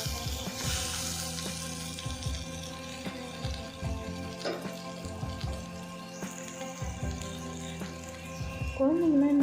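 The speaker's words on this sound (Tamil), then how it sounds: "கருணக்கிழங்கு ஸ்லோ ஃப்ளேமில் வச்சாதான் நல்லா கிறிஸ்பியாக நல்லாயிருக்கும்" Elephant foot yam slices frying on a slow flame, a steady crackling sizzle holding throughout with brief stirring scrapes and a louder burst of bubbling near the end; someone talks over it.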